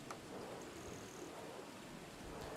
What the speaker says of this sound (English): And so is the rain.